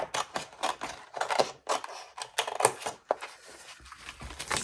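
Scissors snipping through paper card, a run of short crisp cuts with brief pauses, close and fairly quiet, no talking.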